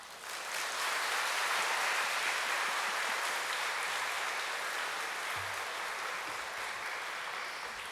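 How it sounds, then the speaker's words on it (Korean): Church congregation at an afternoon worship service clapping to welcome a missionary from Cameroon, a sustained, even wash of applause that starts abruptly and holds steady throughout. "우리 선교사님 나오실 때 박수로 환영하겠습니다"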